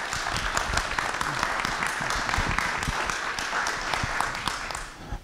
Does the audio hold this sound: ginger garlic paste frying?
no